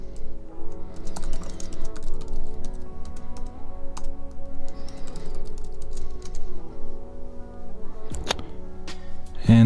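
Rapid, continuous typing on a computer keyboard while a system name is entered, dense close clicking over a steady low background hum, with a few louder keystrokes near the end.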